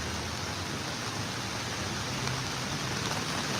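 Rain falls outside as a steady, even hiss of broadband noise, constant and moderately loud, with no voices heard.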